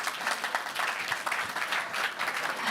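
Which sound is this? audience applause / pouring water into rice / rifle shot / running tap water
audience applause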